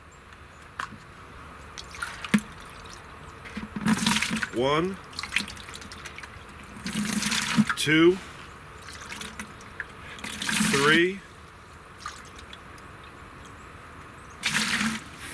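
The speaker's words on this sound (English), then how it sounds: "Next we'll go with the distilled water." Distilled water poured into a measuring cup while mixing a homemade scent eliminator spray, heard as several short splashing pours spaced a few seconds apart, with a person counting aloud between them.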